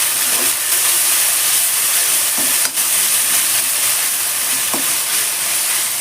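Ginger garlic paste fries in hot oil in a pan for biryani, giving a steady, dense sizzle with a few scraping stirs of a spoon, close and continuous throughout.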